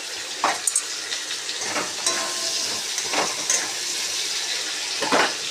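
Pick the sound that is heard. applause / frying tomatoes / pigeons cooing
frying tomatoes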